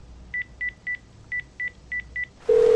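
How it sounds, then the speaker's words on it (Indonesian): A phone in the video game GTA San Andreas dials out with seven short, evenly spaced keypad beeps. A steady, loud tone then starts and continues. "Menghubungkan telepon"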